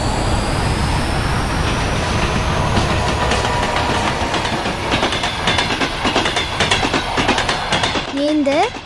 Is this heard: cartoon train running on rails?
yes